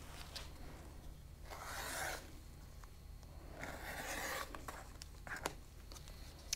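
A rotary cutter trimming cotton fabric squares along a 5-inch ruler on a rotating cutting mat, making two or three brief rasping strokes, close and moderately soft, with light handling noises between.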